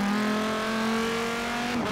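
A Dodge in the video game Forza Horizon 3, with a deep truck-like engine, holds a loud, steady rev as a buzzing harmonic drone, then the tone dips and breaks off near the end.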